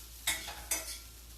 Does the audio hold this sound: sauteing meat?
yes